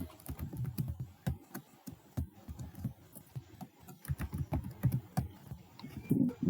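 Steady computer keyboard typing while writing HTML markup, a quick irregular patter of close keystrokes over several seconds, no talk.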